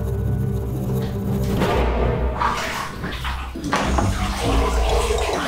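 Water sloshing and splashing in a filled bathtub as a child moves about, loud and close with thumps against the tub and a continuous watery churn.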